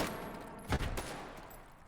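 .308 incendiary rounds fired in a video game make a quick, fairly faint burst of several shots in the middle of an otherwise quiet stretch.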